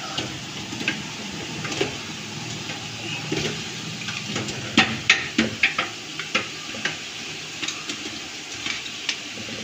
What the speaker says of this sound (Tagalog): Antayin lamang po natin mapumula ang ating bawang at sibuyas.